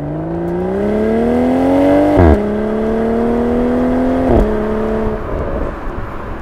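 BMW Z4 M40i sports car engine pulling hard under acceleration, a loud rising drone with two quick gear-shift breaks before the revs climb again, heard up close.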